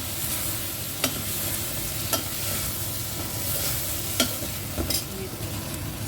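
Soya chunks are stirred into fried onion and tomato in a pan, a steady low sizzle with a few sharp spoon scrapes and clinks spaced through the mix, close and fairly loud with no talking.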